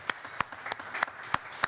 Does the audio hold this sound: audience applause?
yes